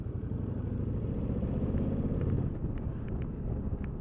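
A 2003 Honda VTX 1300 motorcycle rides at low revs, a deep steady engine rumble with wind buffeting over the microphone, continuous and fairly close with no speech.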